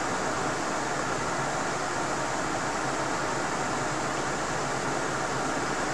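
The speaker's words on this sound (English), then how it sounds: "Right now the test fan is turned on, and let's hear how it sounds like." A test fan hums as a steady, broad whoosh picked up through a webcam microphone from a few feet away, faint and even throughout, with no talking.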